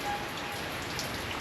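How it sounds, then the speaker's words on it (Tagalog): Rain falls steadily on surfaces around a house, a dense even patter with no letup and no voices. "Maghinto naman yung ulan."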